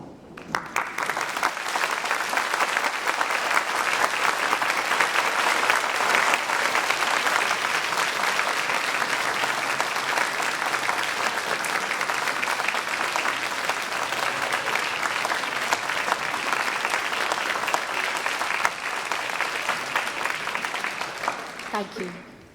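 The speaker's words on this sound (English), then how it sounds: "Yes, to applaud and celebrate" Graduates at a University of Aberdeen summer graduation ceremony applaud their families in a sustained, loud burst of clapping that fills a large hall, building quickly and fading out at the end.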